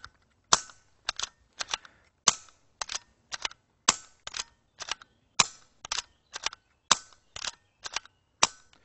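A rapid series of quiet, sharp snapping shots, roughly two per second, crisp and close with brief clicks after each and no talking.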